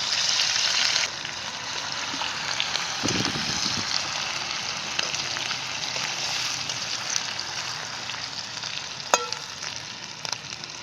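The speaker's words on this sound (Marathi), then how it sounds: "याला चांगलं गरम झालंय आलं लसूण टाकून घेतो" Loud, steady sizzling of ginger and garlic frying in hot oil, with a brief stirring clatter partway through and a sharp click near the end.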